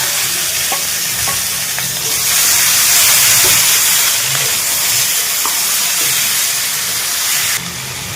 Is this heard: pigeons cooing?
no